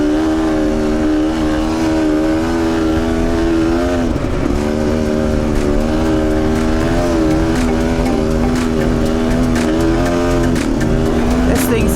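An enduro dirt bike ridden through deep sand in the Little Desert, Australia, its engine droning loud and steady at high revs the whole time, close and unbroken.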